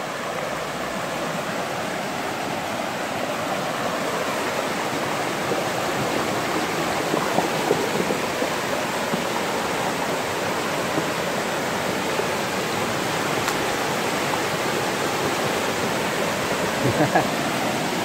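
A swollen river rushes after heavy rain, a steady broadband roar of fast churning water that stays constant and fairly close, with no voices over it.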